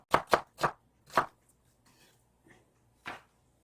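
A knife chops green and red chili peppers and onion on a cutting board, with four quick, crisp, close strokes at the start, then a few sparse, softer taps.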